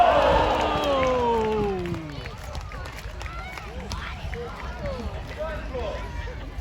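Spectators at a joust at Hampton Court Palace burst into loud cheering for the Green Knight, a strong opening roar of shouts that fades after two seconds into softer crowd murmur and scattered calls.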